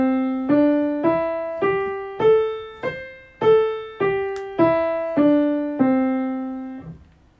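A major pentatonic scale played note by note, eleven evenly spaced plucked or struck tones climbing and then descending, each decaying before the next, clean and close with a final ringing note and no speech.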